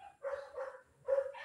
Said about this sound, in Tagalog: Tumatahol doon na.